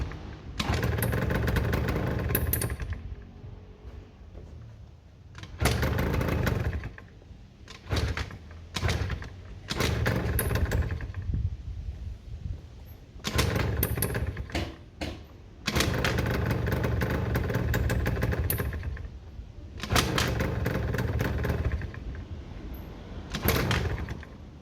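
A Derbi 100cc two-stroke motorcycle being started on choke: several bursts of loud engine noise and revving cut between short pauses, with clunking handling sounds, close by throughout.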